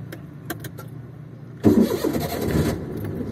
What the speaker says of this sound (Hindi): अभी पहले गाड़ी स्टार्ट करो।